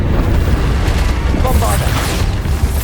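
Bombarda spell blasts in Hogwarts Legacy combat, a dense, loud booming roar of explosions and rumble filling the whole moment, with spoken voices over it.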